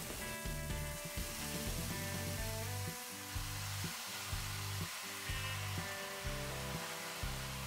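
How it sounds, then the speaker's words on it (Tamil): Fresh spinach dropped into a hot pan while cooking keerai kootu sends up a steady broadband sizzle, with a low pulsing hum running beneath it the whole time. "இப்போ இதில் வந்து நம்ம கீரை சேர்க்கலாம்."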